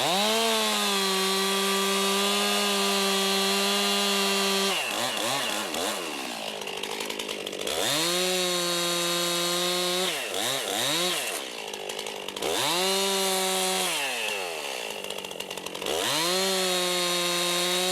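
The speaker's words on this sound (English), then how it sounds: "So Brian, you're ready to make the next cut, which is your back cut, and that's the cut that'll drop the tree" A chainsaw makes the back cut on a tree trunk during felling, its engine whining loud and close the whole time, with the pitch dipping and revving back up three times as the bar bites into the wood. No one speaks.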